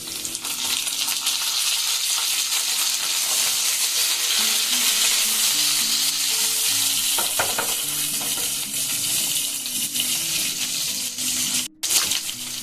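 Chopped tomatoes hit hot oil with toasted cumin for a rajma curry, giving a loud, continuous close sizzle with stirring scrapes and a brief break near the end.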